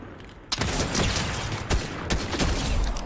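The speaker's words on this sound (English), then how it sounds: "They're shooting left." Rapid bursts of gunfire fill a Fortnite match, with sharp shots repeating close and loud against a dense, noisy game background.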